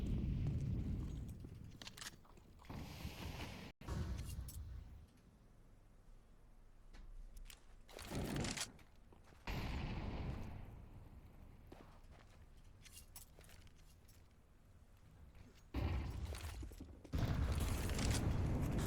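Counter-Strike grenade blasts during an esports match, heavy booming bursts that recur several times amid scattered gunfire and footsteps, loud and close in the game mix.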